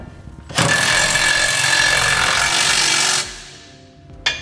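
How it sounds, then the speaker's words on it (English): An impact wrench with a 15/16 socket whirs loudly for about two and a half seconds tightening bolts on an underbed gooseneck trailer hitch on a Ram 2500, then stops, followed by a brief second burst. "Now tighten down all your hardware using a 15/16 socket."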